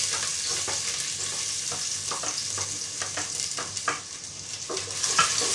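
Garlic fries in hot cooking oil in a pot, a constant bright sizzle broken by scraping stir strokes and small clicks, close and without speech.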